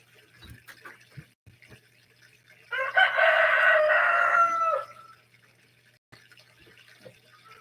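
A rooster crows once, loud and close, in a single long call in a quiet outdoor spot with faint clatter and small sounds around it.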